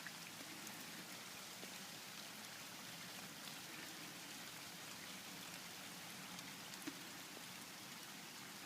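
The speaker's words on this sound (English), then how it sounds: "Still raining." Steady rain falls during a winter flood, a constant even hiss of drops on surfaces with no pauses and no voices.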